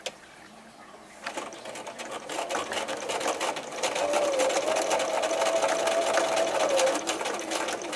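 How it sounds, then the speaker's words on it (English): A sewing machine runs steadily up close, stitching a small fabric mitten for an 18-inch doll with a quarter-inch seam, its rapid needle clatter building after a brief start and continuing without pause. "we're going to sew the mitten around to where we sewed it on the other side"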